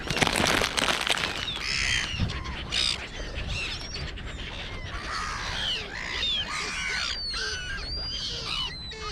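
Several crows caw repeatedly outdoors, harsh calls overlapping at varying distances in an irregular, continuous chorus.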